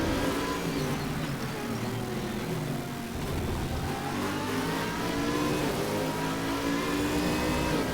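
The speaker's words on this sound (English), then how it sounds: "The Aston Martin sounds amazing as well." Aston Martin GT3 race car engine in the racing video game Stock Car Extreme at the Red Bull Ring, a loud, steady high-revving roar with rising and falling pitch as gears change, continuous throughout.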